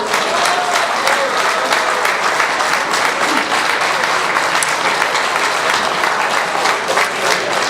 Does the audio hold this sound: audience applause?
yes